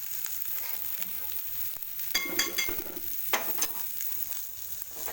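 A chickpea paratha shallow fries on a pan, its low steady sizzle broken by two bursts of louder crackling and a few soft clinks of a spatula.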